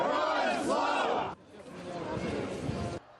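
A crowd of Ukrainian patriots shouts in unison at a street march in Kyiv. The massed voices are loud and roaring, with a sharp cut partway through, and more crowd shouting follows at a similar level.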